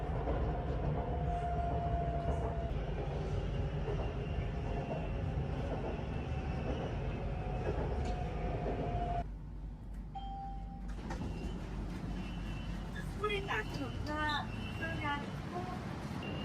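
A Bangkok metro train ride, with steady loud rumble of the carriage running throughout, a short quieter stretch as it slows, then door chimes and station sounds near the end; people talk faintly in the background.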